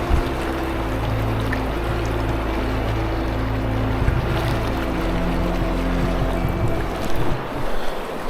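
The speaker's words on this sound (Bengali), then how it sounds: "সারাফ রিভার বয়ে চলেছে, সামনে কার্যক রিভারের সঙ্গে মেশার জন্য।" The Tsarap river in Zanskar rushing past, a dense, continuous roar of flowing water with wind buffeting at times, loud and close with no pause.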